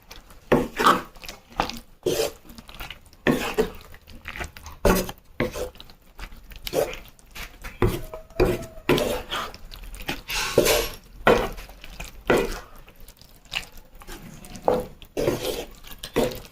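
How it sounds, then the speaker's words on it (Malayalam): Lemon pickle being stirred in a pot with asafoetida powder mixed in, giving repeated rasping, scraping strokes of a spoon against the pot in an irregular rhythm, close and fairly steady throughout with no talk. "ആവശ്യത്തിനുള്ള കായപ്പൊടി കൂടെ ചേർത്ത് കൊടുത്തിട്ട് വീണ്ടും നമ്മൾ നല്ല പോലെ ഒന്ന് ഇളക്കി സെറ്റാക്കണം."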